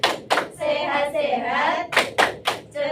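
Children in a classroom doing the rhythmic "tepuk apa kabar" clapping chant, sharp unison hand claps in a patterned rhythm alternating with sung group chanting, close and lively.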